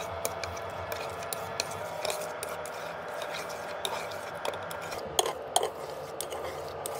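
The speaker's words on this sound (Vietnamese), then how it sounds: "Để mọi thứ tan lẹ hơn thì tôi sẽ lấy đũa khuấy khuấy." Chopsticks stir a Samyang spicy noodle cheese sauce in a pot, giving a steady close scraping and rubbing with a few sharper clinks against the pot, no talking.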